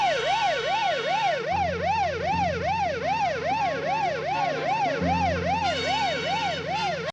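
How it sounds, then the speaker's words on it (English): An ambulance siren wails loudly in a fast, repeating up-and-down cycle, with an engine rumbling underneath throughout. "How did they get access to an ambulance?"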